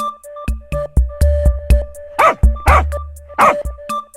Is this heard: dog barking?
yes